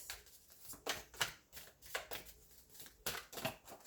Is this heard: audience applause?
no